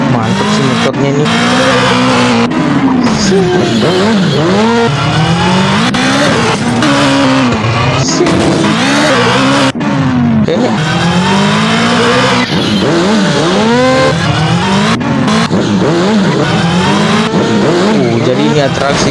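Motorbike engine in a racing video game, loud and continuous, with a revving whine that keeps rising and falling, repeated tire squeals, and a person talking over it throughout.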